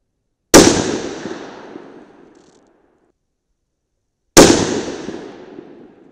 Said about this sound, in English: That felt like a good shot.